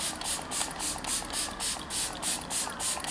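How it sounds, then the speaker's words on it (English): Makeup setting spray, also used as a primer, is pumped onto a face in about nine quick hissing bursts at a steady rhythm, close and fairly loud. "you can use as a primer as well as a setting spray"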